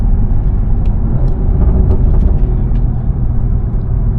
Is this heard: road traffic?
yes